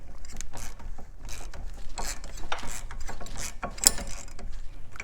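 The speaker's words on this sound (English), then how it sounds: "when you're rotating this piston, you want to make sure that the boot is not rotating with it" A rear brake caliper piston on a 2005–2009 Kia Spectra is turned back in with a tool, making close, repeated ratcheting clicks and mechanical grinding in an uneven rhythm.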